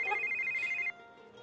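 A phone ringtone trills in a short, bright burst close by, then cuts off abruptly, leaving a quiet room.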